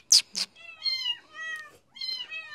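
A hungry kitten cries repeatedly at close range, a run of four or five insistent, wavering meows following two sharp clacks at the start.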